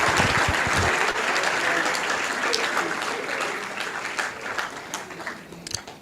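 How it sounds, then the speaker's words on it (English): Applause at an honour's day ceremony, a large audience clapping loudly at first, then tapering gradually with scattered claps near the end. "Please, one more time, a big round of applause."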